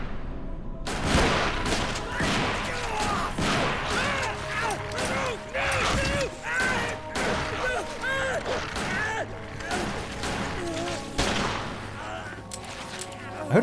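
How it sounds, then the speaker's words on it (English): Gunfire in the Resident Evil Remake video game, sharp repeated shots scattered through a dense, loud mix of game effects and music, with a voice talking over it. "I heard a lot of gunfire then"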